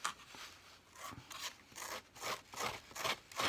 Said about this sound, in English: tear the edges a little bit